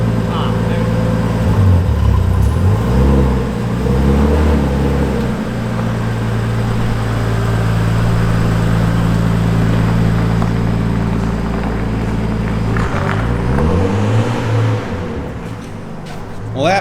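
A Nissan SR20 engine, after sitting in a puddle for a year, cranks and runs with a loud, steady rumble throughout, rising and falling in pitch with revs, with people talking over it.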